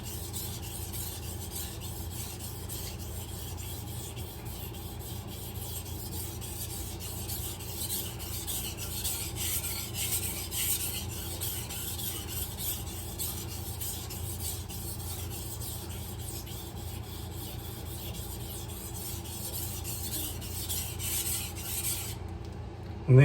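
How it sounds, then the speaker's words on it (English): A cooking knife is worked against a soaked whetstone, producing a continuous gritty rasping scrape at a steady level, close up, with no speech. "So you'll need to turn it over and sharpen the other side."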